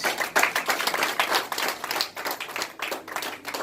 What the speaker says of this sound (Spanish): Denle fuertes palmas al Rey de Reyes.